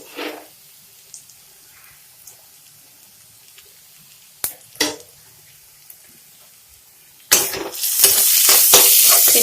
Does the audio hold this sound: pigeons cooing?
no